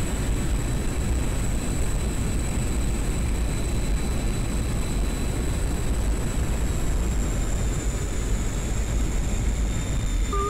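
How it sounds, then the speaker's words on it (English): MiG-21bis jet in the DCS World flight simulator running with afterburner, a steady broad roaring rumble with a thin high whine over it, continuous and without speech. "anytime you're above 550 kilometers per hour, you can just put it in the afterburner and do a loop or a semi-loop"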